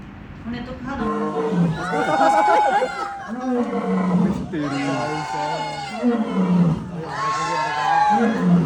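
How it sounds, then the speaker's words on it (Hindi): A very large lion at Delhi Zoo gives repeated deep, loud roars in three long bouts that carry across the enclosure, with visitors talking and murmuring throughout. "वो दहाड़ रहा था जिसकी दहाड़ पूरे जू में गूंज"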